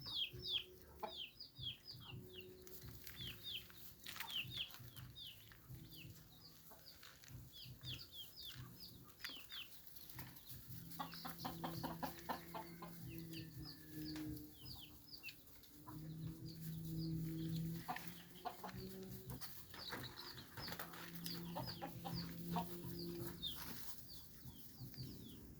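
Chickens cluck and call in a rural coop, with a mix of near and farther hens, occasional wing flaps and a low steady hum beneath, continuing for nearly half a minute.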